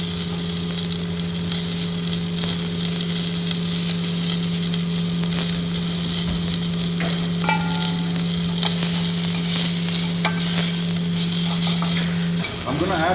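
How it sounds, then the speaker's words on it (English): Browned bones, meat and freshly added vegetables sauteing in a hot pan give a steady, close sizzle and fry with occasional stirring scrapes, with no talk over it. "I'll quickly add some vegetables to it and continue to saute this."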